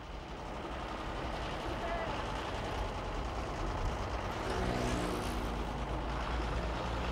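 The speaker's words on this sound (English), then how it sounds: "only trucks enter from time to time, carrying merchandise to the village of Chintabaraden." A truck on a rural road toward a village rumbles steadily at a moderate distance, with a hiss of air brakes partway through over broad, noisy ambience.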